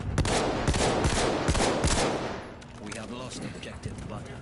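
A slow-firing gun in Battlefield 1 lets off a series of spaced single shots, sharp cracks about every half second, loud at first, then fainter and more scattered amid game noise.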